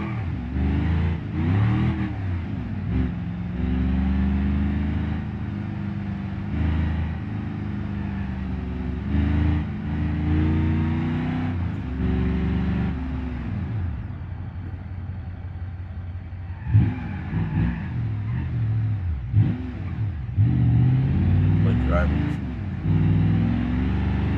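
A truck with a stiff rear differential and no power steering in the BeamNG.drive driving game revs repeatedly, its engine rising and falling in long surges as the wheels spin, while a person talks over it throughout.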